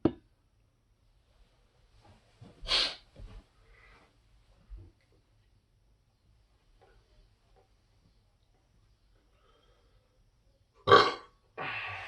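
Loud burps in a burping competition between brothers, a few short isolated belches separated by near-silence, the loudest two coming at the start and near the end, with faint clicks and small sounds in between.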